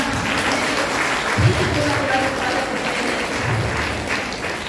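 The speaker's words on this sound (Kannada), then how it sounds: "ಅವರೆಲ್ಲರನ್ನ ನಾವು ಚಪ್ಪಾಳೆಯ ಮುಖಾಂತರ" An audience claps at an International Women's Day event, steady loud applause filling the whole stretch.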